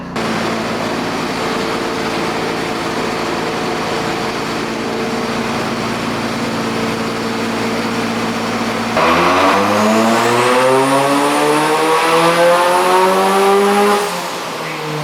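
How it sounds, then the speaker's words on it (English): A turbocharged BMW M50B30 car engine roars loudly at sustained high revs on a dyno, then climbs steadily in pitch through a hard run before easing off. "There was an awesome S15 on the dyno before my car. It sounded so good."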